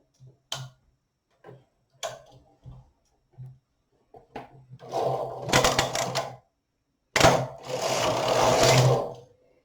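A domestic knitting machine knits a row of newborn baby booties: a few sharp isolated clicks of the needles, then two long loud rattling sweeps of the carriage across the needle bed, with no talk.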